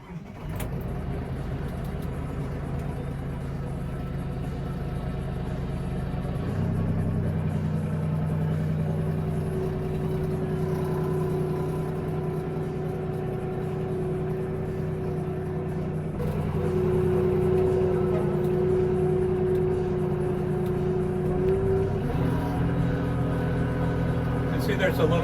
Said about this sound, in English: You're obviously going to get some noise because it is a tractor, but certainly not that annoying